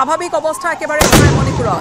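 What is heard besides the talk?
gunshots fired into the air to disperse protesters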